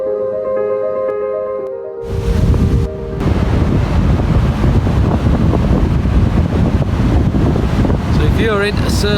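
Strong wind buffets the microphone at a beach campsite by a surf bay, a loud, gusty roar that starts abruptly after a quieter opening and continues, mixed with surf.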